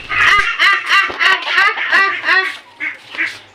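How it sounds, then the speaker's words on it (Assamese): Ducks quack loudly and close up while being fed grain and leftover rice, with a rapid series of repeated nasal calls that thin out toward the end. "এয়া দেখিছে, এতিয়া হাঁহখিনি ধুনীয়াকৈ দানা দিম।"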